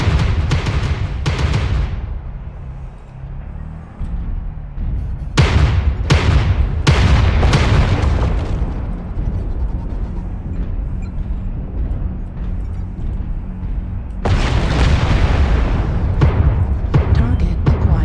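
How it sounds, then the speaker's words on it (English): Artillery strike explosions in MechWarrior Online, a series of loud booming impacts in clusters, separated by stretches of rumbling background noise, with another heavy volley near the end. "Artillery strike activated."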